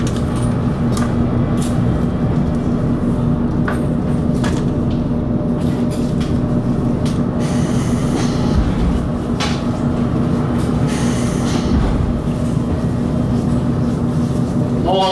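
Limited express train 36+3 on the Blue Route to Hakata departing Nakatsu station, a steady continuous rumble with a humming drone and faint squeals throughout, broad and fairly loud with no clear voices.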